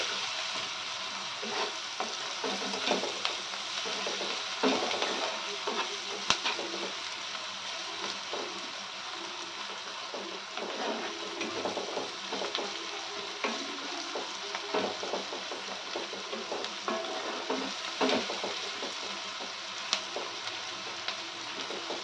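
Onions with turmeric and salt frying in a pan, a steady, dense sizzle with scattered crackles and small stirring noises running unbroken throughout, with no voices.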